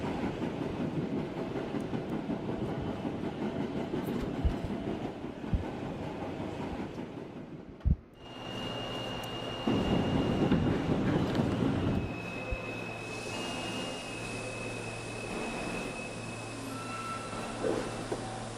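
An R32 subway train runs in D express service in a video game, with a steady rumbling roll and rail clatter, a brief dip near the middle, then a sustained hum with a thin whining tone.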